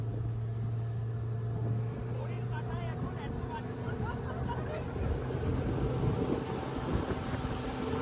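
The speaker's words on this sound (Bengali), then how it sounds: "এটা হচ্ছে ইউমিয়াম লেকের স্পিড বোট রাইড" A speedboat ride on Umiam Lake near Shillong: the steady drone of the outboard engine and rushing water carry on throughout, with wind buffeting the microphone.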